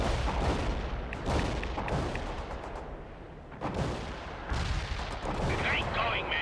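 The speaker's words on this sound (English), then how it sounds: "Incoming fire! Get down!" Heavy incoming artillery and gunfire in the war game World in Conflict roar as a dense, continuous barrage of booms and rattling shots, loud and close, with shouted voices under the din.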